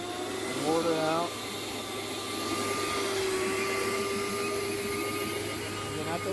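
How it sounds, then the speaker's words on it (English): Vacuum drawing water out of flooded car carpet, a continuous loud roaring hiss with a steady whine throughout, its pitch wavering briefly early on. "what we're using is the engine air vacuum, sucking the water out."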